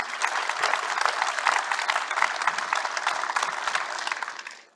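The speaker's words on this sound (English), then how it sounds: "Let's give them all a round of applause for the incredible work that they're doing" A Space Center Houston audience gives a full round of applause, dense and steady clapping from many hands that holds strong throughout before trailing off at the end.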